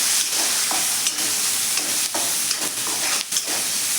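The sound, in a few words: onions sautéing in hot oil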